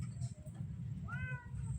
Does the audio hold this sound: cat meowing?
yes